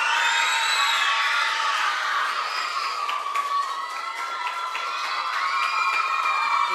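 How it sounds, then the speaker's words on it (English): A crowd of young people at a national school reading competition cheers loudly, high shrieks and whoops over clapping, sustained and energetic throughout. "give them a very loud round of applause"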